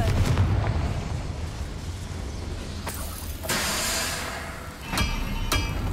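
A Confringo fire spell explosion in Hogwarts Legacy, a loud rumbling blast with rushing bursts and a couple of sharp cracks, no talk during it.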